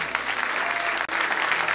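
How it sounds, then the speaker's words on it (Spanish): Church congregation applauding together after a closing prayer, steady dense clapping filling the space, with a brief dip near the middle before the clapping resumes. "Un aplauso, mi hermano."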